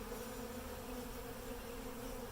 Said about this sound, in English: There's still a cloud here of either returning bees or bees that just haven't found the right place yet